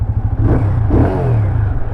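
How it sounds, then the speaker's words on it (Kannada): A 2024 TVS Apache RTR 180 2V motorcycle engine runs close by with a low, steady, throbbing idle, no voices. "ಇಂಜಿನ್ ಸೌಂಡ್ ಈ ಥರ ಕೇಳಿಸ್ತಿದೆ"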